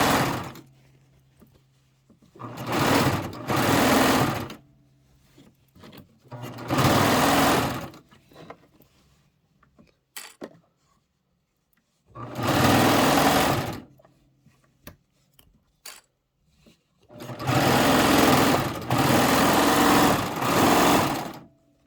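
A serger sewing machine finishes a quilted pillow back in several loud, close bursts of rapid whirring stitching, each lasting a second or two. Quiet pauses fall between them while the fabric is repositioned.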